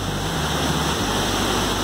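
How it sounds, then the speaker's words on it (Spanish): Steady broadband rush of El Suspiro waterfall in Parque Bicentenario, Mexico, a dense continuous roar of falling water heard close and loud for the whole moment, with no voices. "Esta es la cascada El Suspiro."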